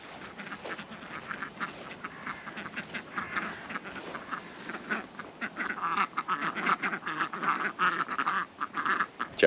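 Ducks on a sheep farm quack steadily in a busy flock, nearby and moderately loud, getting louder toward the end with no voices.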